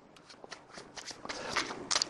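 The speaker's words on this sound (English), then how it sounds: "he gave them a little bit of a shuffle," Pack of playing cards given a quick shuffle during a magic trick, a brief, faint riffling flutter lasting about two seconds with no talking over it.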